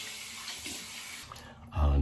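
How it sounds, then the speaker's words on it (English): Cold tap water running into a sink for a face rinse after shaving, a faint hiss and trickle that ends in a louder splash. "Now what I'm going to do is I'm going to rinse with cold water."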